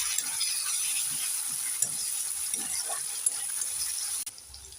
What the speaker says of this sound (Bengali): এবার আমি দিয়ে দেব বেটে রাখা মশলা একটু নেড়ে চেড়ে দিয়ে দেবো